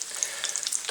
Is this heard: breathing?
no